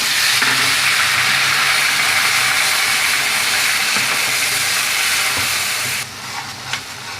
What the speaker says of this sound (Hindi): अब इसमें हम थोड़ा सा पानी भी डाल देते हैं।